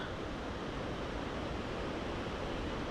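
A hidden waterfall deep in a forest gives a constant, dense rushing roar, steady and fairly close, with no voices over it.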